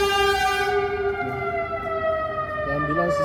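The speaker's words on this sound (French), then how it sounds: "Ici, il y a beaucoup d'ambulances ici." A loud ambulance siren in the United States wails with steady, layered tones, sounding close by and dominating the scene.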